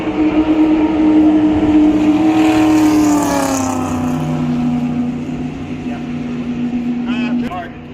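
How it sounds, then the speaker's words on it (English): Race car engines growl past at around 195 mph at Daytona Speedway, a loud sustained roar with falling pitch as several cars fly by in succession, heard from the stands. "All those engines growling, flying by at 195."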